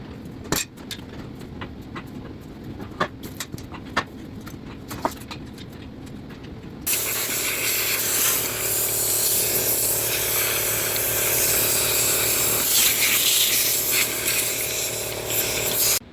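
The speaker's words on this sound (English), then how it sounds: "Okay, so I got everything blown off with air." Compressed air blasts dirt off farm equipment in a dairy barn, starting with brief sharp spurts and then a loud continuous hiss of blowing air for the rest of the clip.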